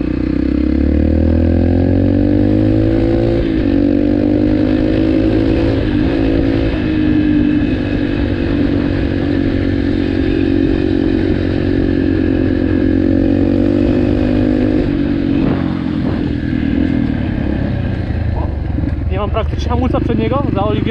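A Yamaha TTR 125 dirt bike fitted with an FMF PowerCore 4 exhaust drones steadily up close at shifting revs, its engine note rising and falling under a voice.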